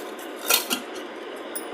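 A spoon clinks against a metal pot as sugar goes into boiling tamarind water, two brief bright taps over a steady hiss of bubbling liquid, close up, no talking.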